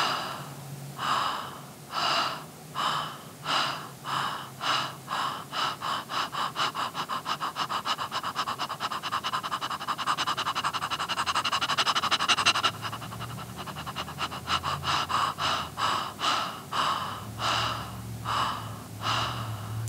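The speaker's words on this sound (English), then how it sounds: "Take a breath." A deep breathing exercise: sharp, rhythmic panting breaths pulse steadily for a while, then run together into a long continuous push before the quick rhythmic breaths resume. The breathing is close and clear, with no talking.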